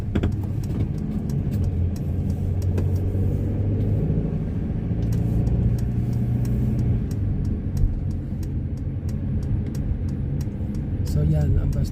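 A bus circles a roundabout on a Saturday route, its engine giving a steady low rumble throughout, with a voice talking over the drone.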